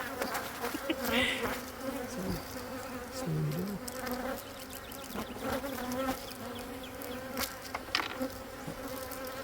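Bees buzz continuously around an open beehive during an inspection, their droning hum rising and falling as individual insects pass close by.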